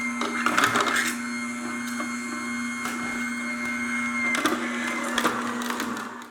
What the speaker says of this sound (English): we want to begin our juicing processes